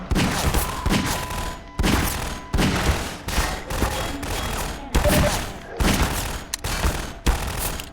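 Gunfire in the Half-Life 2 video game, loud continuous bursts of automatic shots broken by short pauses, with heavy low booms under the rapid firing.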